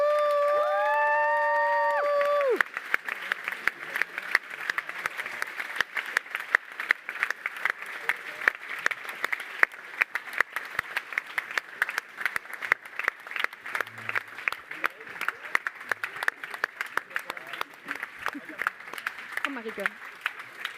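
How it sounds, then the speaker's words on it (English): A large conference audience bursts into sustained applause for the speakers, a dense wash of clapping with scattered cheers that carries on for a long stretch after brief music fades. "please give a really, really, really roaring applause to all the speakers of the conference"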